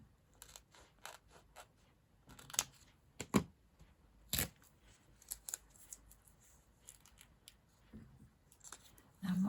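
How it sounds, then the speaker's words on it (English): Scissors snip through a paper sticker with quiet, scattered cuts and rustles, some sharper clicks mixed in, heard close up in a quiet room. "Now I think I will cut this out."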